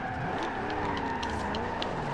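A Corvette ZR1 drifting in Forza Horizon 2 gives off a continuous loud tire squeal and skid over steady engine drone, sustained without a break and heard alone with no voices.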